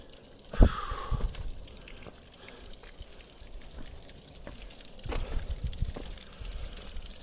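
Water trickling and splashing at a waterfall on a hike, an uneven outdoor wash of drips and pours with a few louder splashes, close by and moderately loud.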